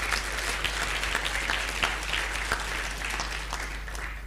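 An audience claps at the closing plenary of an annual learning event, a steady wash of applause heard faintly and at a distance throughout, with a few sharper individual claps standing out.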